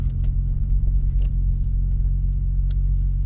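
A four-cylinder car engine with its catalytic converters removed idles with a steady low rumble, close and loud. A few faint clicks sit above the engine tone, and no one speaks.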